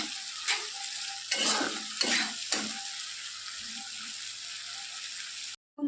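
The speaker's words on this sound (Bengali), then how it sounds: "একটু ভালো করে নাড়াচাড়া করে নেব" Onion, green chilli and bay leaf frying in a pan while a spatula stirs them, a soft continuous sizzle broken by several louder scraping strokes, close by, with no talking.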